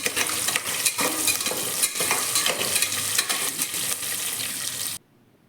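Sprouted legumes crackle and sizzle in a hot pan as a spoon scrapes and stirs them in frequent clattering strokes, close and fairly loud, before the sound cuts off abruptly into near silence at the end.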